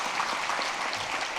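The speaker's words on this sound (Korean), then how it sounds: "네, 다시 한번 큰 박수" Sunday afternoon church congregation clapping for children from the church school, a brief steady round of applause at moderate volume.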